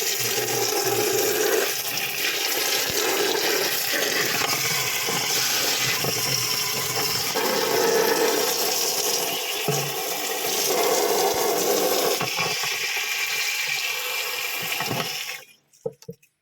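A concealed wall-mounted cistern flushes during a repair: a loud, sustained rush of water pours for about fifteen seconds, then cuts off abruptly near the end.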